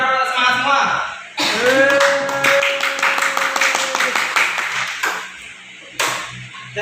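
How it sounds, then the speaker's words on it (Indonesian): A class of students claps hands together in a brisk burst of many overlapping claps, with a sustained tone and voices mixed in before and during the clapping. "Tepuk tangan dulu biar semangat semua."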